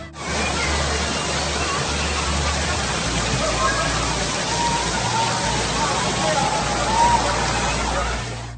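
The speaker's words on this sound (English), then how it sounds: "Southeast Queensland had another day of heavy rain." Heavy rain from a violent thunderstorm in Southeast Queensland pours down in a dense, steady roar with no break, loud and close throughout, with a low rumble underneath.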